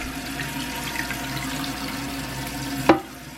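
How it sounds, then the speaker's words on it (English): A newly installed toilet fills with water, a steady rushing trickle running continuously before a brief knock near the end and a quieter tail. "And the bowl's filling up."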